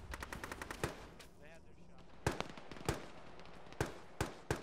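Sharp gunfire in the Arma military video game, a rapid burst of automatic shots followed by single loud cracks spaced irregularly, close and dominant with faint background activity.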